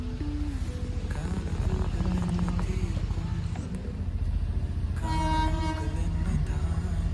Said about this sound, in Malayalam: നമുക്ക് ട്രെയിനിൽ കയറുകയാണ്